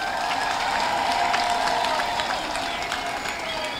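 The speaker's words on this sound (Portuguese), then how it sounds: "Uma salva de palmas para ele" Crowd applause at a municipal swearing-in ceremony in Quelimane, honoring Dr. Leopoldo Ernesto of the Renamo party: a steady, dense wash of clapping that holds evenly throughout, with a faint tonal hum beneath.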